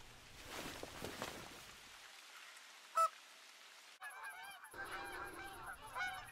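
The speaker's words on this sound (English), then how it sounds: "The geese were just coming in flock after flock." Geese honking in theHunter: Call of the Wild during a goose hunt, with quiet ambient noise, one sharp click, then a steady run of repeated honks from an incoming flock.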